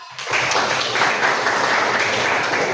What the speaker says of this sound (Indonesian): Oh ya, baik, tepuk tangan.